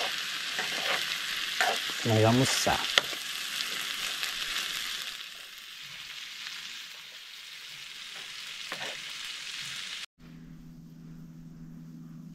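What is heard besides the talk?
frying okra in a pan at a riverside campsite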